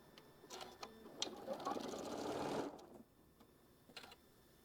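A sewing machine stitches quilt block pieces in a short, faint burst of rapid whirring that fades out, framed by soft handling clicks and quiet room noise.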